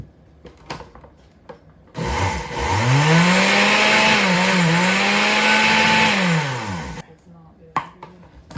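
A kitchen blender whirs loudly for about five seconds while mixing homemade laundry soap, its motor pitch sagging and recovering under the load, with brief talk before and after.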